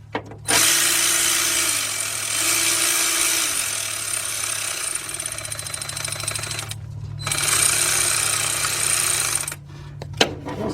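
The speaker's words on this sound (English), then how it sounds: "your 10mm shallow socket 3/8 drive with your cordless ratchet" Cordless 3/8-drive ratchet with a 10mm shallow socket running bolts in on a GM timing-chain job, loud steady motor whir in two bursts separated by a short pause, ending with a couple of sharp clicks.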